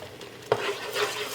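Blended tomato with ginger garlic paste being stirred in a pot, with a soft continuous sizzle and a single clear utensil knock partway through.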